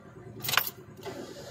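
A Toyota Vitz with recently tuned engine fault codes cranks briefly and catches, a short close whirring start burst followed by a low steady idle.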